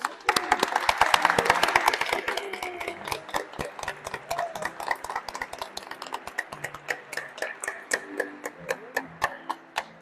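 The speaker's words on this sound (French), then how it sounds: "Applaudissons notre frère et sœur, Édouard et Marguerite" After a baptism, a church congregation claps, thick and busy at first, then thinning into scattered, crisp individual claps that trail off over ten seconds.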